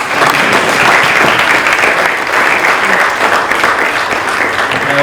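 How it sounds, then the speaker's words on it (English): Audience at a yoga and wellness talk giving a loud, dense round of applause for the guest speaker, many hands clapping continuously and evenly close to the microphone. "So could we give him a round of applause,"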